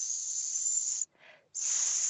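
A voice imitates a snake with a long, stretched hissing S, held for about a second, breaking off briefly, then resuming, loud and close with no other sound.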